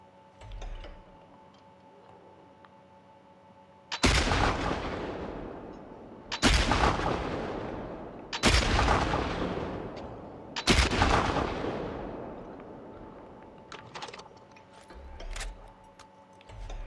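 Four loud, sharp rifle gunshots from The Last of Us Part II ring out about two seconds apart, each with a long decaying echo, over quiet game ambience.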